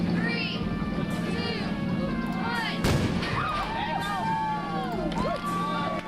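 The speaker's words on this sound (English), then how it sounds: "I get shot out of a cannon." Cannon launching a human cannonball in the video game Oxygen Not Included, a sharp burst near the middle of a busy, continuous game mix with cheering-like crowd noise and chirpy tones, with voices talking over it.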